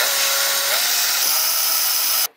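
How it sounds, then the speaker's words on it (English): A power drill bores a screw hole in a part for a Libreflip build, a loud, continuous high whine running steadily for about two seconds before cutting off abruptly. "Let's drill these."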